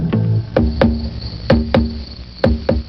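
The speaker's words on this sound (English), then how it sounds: "Is there a cricket in that record?" Sharp rhythmic clicks recur about twice a second over a steady tonal backdrop, like a cricket chirping along with recorded music.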